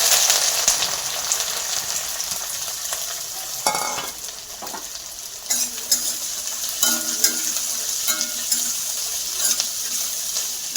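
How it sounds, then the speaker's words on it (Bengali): Five chopped medium onions fry in hot mustard oil, a continuous close sizzle broken by stirring scrapes and clinks, with brief running water from a tap. "পেঁয়াজটা একটু ভাজা হোক।"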